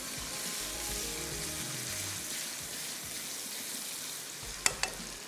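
Garlic-ginger paste frying with chopped tomatoes in a pan, a steady broadband sizzle throughout, with a couple of sharp metallic stirring clinks near the end; no one speaks.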